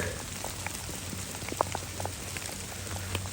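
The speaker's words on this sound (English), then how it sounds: "Here a big bull is sitting and also enjoying the nighttime rain." Nighttime rain falling steadily on foliage in a chameleon habitat, a dense continuous patter with scattered louder drops striking nearby surfaces.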